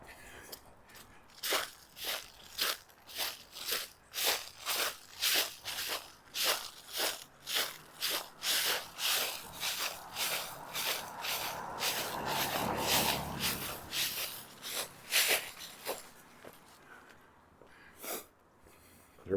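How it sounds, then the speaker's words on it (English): Footsteps crunching through dry fallen leaves on a chilly autumn walk around Wascana Lake in Regina, a steady close rhythm of crisp rustling crunches that keeps on for many seconds with no talking. "Chance to crunch some leaves."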